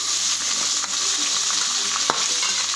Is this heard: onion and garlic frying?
yes